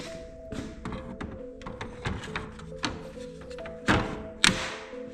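Custom metal grill clicked and fitted onto a Kawasaki KRX side-by-side, giving a string of close thunks and taps with two sharper knocks near the end, over a faint steady background hum.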